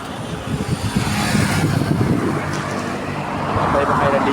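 Highway traffic streams past in a steady, broad roar of car and road noise that swells slightly toward the end, with no clear break between passing vehicles.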